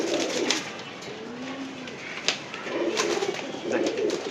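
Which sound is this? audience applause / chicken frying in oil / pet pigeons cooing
pet pigeons cooing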